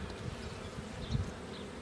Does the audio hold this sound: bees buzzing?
yes